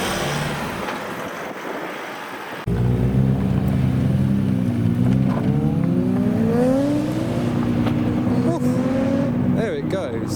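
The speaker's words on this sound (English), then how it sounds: "you're going to see a smoky burnout" A modified car's engine roars and revs steadily at close range during a smoky burnout, rising and falling in pitch over a constant rumble, with faint voices in the background.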